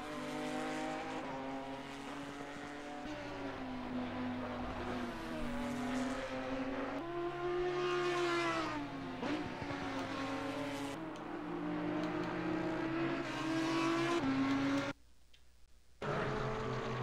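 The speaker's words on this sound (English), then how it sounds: "Two Porsches together out on track." Two Porsche GT4 race cars circulate together on a wet Brands Hatch circuit, their engines loud and close, rising and falling through gear changes with a tire squeal, before the sound cuts briefly near the end.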